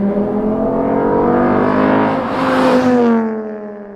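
A Volkswagen five-cylinder engine revs hard and climbs in pitch, holding a strong throaty roar close by before easing back down.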